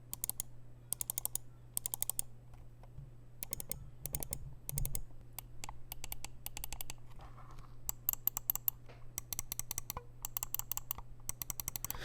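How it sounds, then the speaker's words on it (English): Sharp, crisp clicks from the buttons of a Razer DeathAdder Chroma mouse with Omron switches, pressed in quick bursts and short rapid runs, close and clear over a low steady hum, with no talking. "so we can get as crisp and as good quality on the sound clicks as possible"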